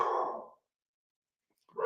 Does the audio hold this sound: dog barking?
yes